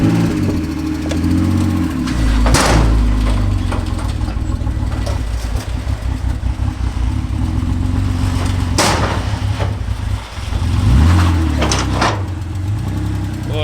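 An old first car's engine idles steadily with a loud, even, low rumble that runs the whole time, broken by a few sharp knocks or bangs and no talking.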